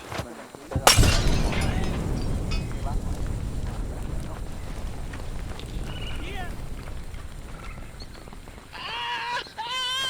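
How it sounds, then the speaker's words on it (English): Molotov bottles shattering and bursting into fire in a tactical shooter video game, opening with a loud crash of breaking glass, then a sustained roar of flames, with a voice talking briefly near the end. "And here's a little more fun with Molotovs as a bonus."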